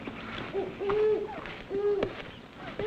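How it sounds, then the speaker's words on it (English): An owl hoots several times in steady, drawn-out calls over a constant background hiss, moderately close and clear, with no talk. "That's an owl."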